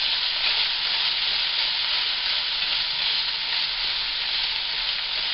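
Minced meat sizzling in a pan while sauce is stirred through it for mapo tofu, a steady close frying hiss that carries on evenly throughout with no voices.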